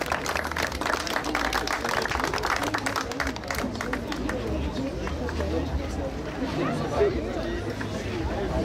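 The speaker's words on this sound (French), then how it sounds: "On peut les applaudir également." Audience applause at a women's prize-giving ceremony, a steady burst of clapping from a crowd filling the room, with a voice and background chatter over it.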